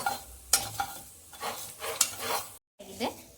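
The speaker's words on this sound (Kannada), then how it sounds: "ಈರುಳ್ಳಿ, ಬೆಳ್ಳುಳ್ಳಿ, ಶುಂಠಿ ಹಾಕೊಂಡು ಫ್ರೈ ಮಾಡ್ಕೋಬೇಕು." Onion, garlic and ginger fry in a pan for a South Indian chicken gravy. A soft sizzle runs under repeated scraping strokes of a spoon against the pan, with a brief silent gap near the end.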